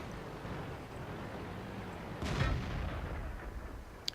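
An M103 heavy tank's cannon fires in World of Tanks, one deep booming shot midway through a low rumbling engine and battle background, followed by a faint click near the end.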